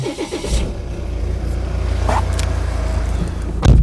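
A Volvo V with a 2-litre diesel engine and automatic gearbox starts up, the steady low idle rumbling close by for several seconds before a louder revving burst at the end.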